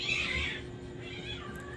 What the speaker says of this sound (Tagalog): Pasama yung mga pusa na yan, ang ingay team. Umaga nag-aaway sila.